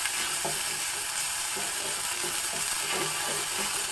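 Chopped onions frying in a pan in a traditional Hebbar Brahmin home kitchen, with a steady close hiss and sizzle throughout and a few soft scrapes of stirring, no voices.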